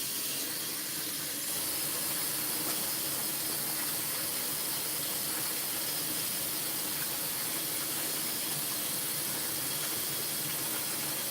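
Tap water running steadily over rice in a kitchen strainer, a continuous close hiss and splash with no break and no speech.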